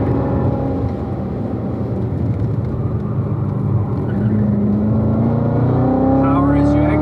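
A car's engine drones steadily while it is driven through a corner on a ride-along, its pitch climbing as it accelerates out, loud and continuous with a faint voice underneath.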